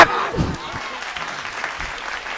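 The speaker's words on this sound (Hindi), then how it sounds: "ताली बजा।" Audience applause breaks out at a live comedy performance, a short burst of clapping from a crowd that continues at moderate loudness, with a voice briefly heard at the start.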